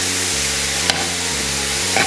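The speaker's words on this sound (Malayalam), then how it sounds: "നമുക്ക് നന്നായിട്ടൊന്ന് ഇളക്കി യോജിപ്പിക്കാം." A utensil stirring coconut filling with ground cardamom in a pan, a continuous scraping, sizzling texture with a steady low hum beneath and a couple of brief sharper knocks, no voices.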